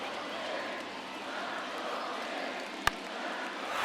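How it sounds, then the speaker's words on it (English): Stadium crowd in the baseball video game MLB The Show 23, a steady, broad roar of many voices filling the background, with one sharp knock standing out near the end. "Crowd is going crazy."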